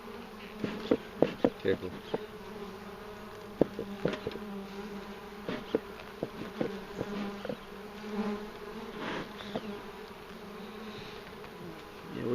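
Honeybees in a robust colony buzz steadily around an opened top bar hive during an inspection, a dense insect hum with sharp close fly-bys and a brief spoken word.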